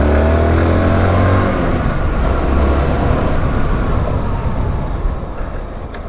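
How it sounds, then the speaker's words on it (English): A SYM NH-T 200 motorcycle rides along with a steady, loud engine drone and road rumble, heard close throughout with a slight fade near the end. "that has been it for a quick ride of the NH-T 200"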